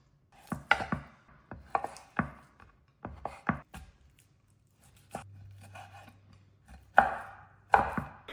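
A knife cuts beef steak into cubes for a Kerala-style beef fry, sounding as sharp, close chopping knocks in uneven bursts with short pauses between.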